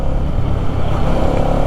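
A 2024 Hero XMR 210 motorcycle being ridden, its engine running smoothly. A loud, dense, steady low rumble with a rushing roar holds unbroken for a couple of seconds.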